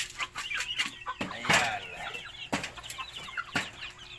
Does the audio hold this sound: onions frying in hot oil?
no